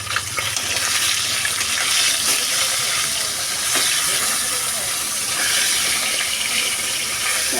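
Fish fry in hot oil in a pan, a steady bright sizzling hiss that holds throughout at close range with no talk.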